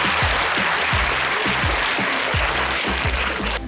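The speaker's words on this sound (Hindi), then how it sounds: "रोने वालों के लिए भी तालियां बजाइए प्लीज।" Students at an intercollege event under a tent applauding, steady loud crowd clapping with a rhythmic low thumping pattern running through it.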